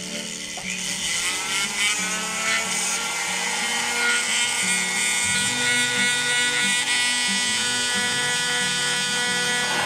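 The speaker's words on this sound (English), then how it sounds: "I'm just going to use this little flame burr to just do a little bit of a relief here." A small rotary carving tool fitted with a flame burr cuts relief into wood for trout fin details, giving a steady, close, high-pitched whine with gritty chatter that runs continuously throughout.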